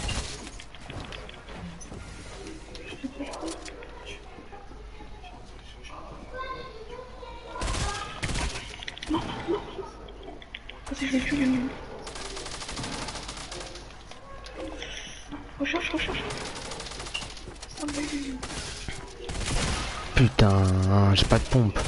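Rapid bursts of video game gunfire crackle through a busy mix, with scattered sharp shots and louder blasts toward the end, while someone talks over much of it.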